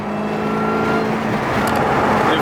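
A supercharged Dodge Hellcat engine roars loud and close in a sustained, rising rev, with no voices over it.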